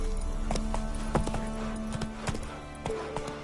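Roach, a horse in The Witcher 3, galloping with a quick, steady clip-clop of hooves, close and clear, with a brief whinny and no talk over it.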